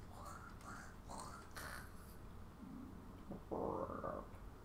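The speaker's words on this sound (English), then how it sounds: "you guys might also hear my stomach going like" A person's stomach gives a few faint, low gurgling rumbles in a quiet room, with the longest growl near the end.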